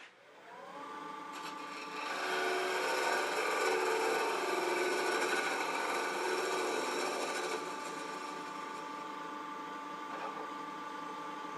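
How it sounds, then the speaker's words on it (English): A wood lathe spins as a spindle gouge cuts on center, a steady whirring drone with a continuous tonal hum that swells louder in the middle of the cut and then eases back, close and alone without talk. "that spindle gouge cutting on center."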